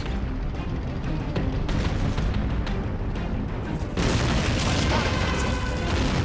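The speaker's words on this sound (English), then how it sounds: "I think we've got artillery firing down here now as well" Artillery fire in the World War II strategy game Assault Squad 2, a continuous roar of booms and blasts that swells louder midway, heavy and rumbling throughout.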